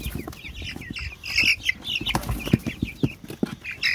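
Ten young chicks are put into a coop, peeping and cheeping busily close by while wings flutter and bodies scuffle and thump against the enclosure in irregular bursts.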